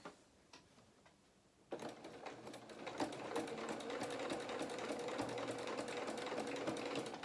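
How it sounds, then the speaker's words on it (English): Sewing machine running a straight row of stitches across the top of a vinyl-fronted fabric project bag, starting after a quiet moment and then whirring steadily and fairly close for several seconds. "now I'm going to just run a row of stitches just across the top of there, just to hold that out of the way again"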